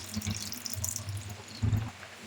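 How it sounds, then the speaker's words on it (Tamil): Milk is poured into a pot for semiya payasam, a short, steady liquid stream with gurgling drips, close by and fairly loud, swelling into a fuller splash near the end. "இப்போ நம்ம பால் ஆட் பண்ணிக்கலாங்க"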